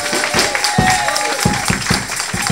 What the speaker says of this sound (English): Give a clap of faith to Jehovah.